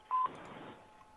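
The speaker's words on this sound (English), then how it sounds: "Please leave a message Hello. after the tone." A short electronic beep on a phone call signals the start of a voicemail recording, clear and brief, followed by a faint line hum.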